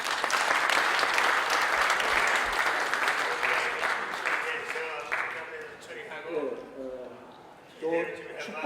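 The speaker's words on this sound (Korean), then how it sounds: "큰 박수로 환영해 주시기 바랍니다." A church seminar audience applauds loudly and steadily for several seconds, then the clapping fades as a voice begins speaking Korean over a quieter room.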